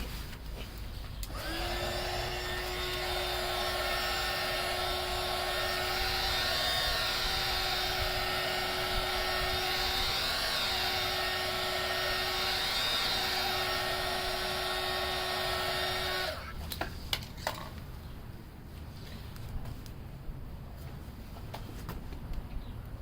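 Heat gun blowing steadily on a forged carbon mirror cap from a 2015 Infiniti Q50 3.7L AWD, a loud continuous whine-and-rush holding for about fifteen seconds, then cutting off abruptly, leaving a few faint clicks and handling noises.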